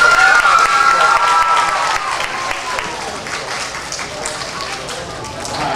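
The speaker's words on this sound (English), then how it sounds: "So give Mr. Kuzan a round of applause." An audience at a school family history awards ceremony claps in a loud burst that gradually thins and softens, with some crowd noise and cheering mixed in.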